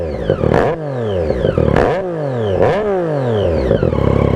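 Loud, close revving from a Triumph Street Triple R with a Coffman exhaust, three quick throttle blips rising and dropping back over a rough, rumbling idle.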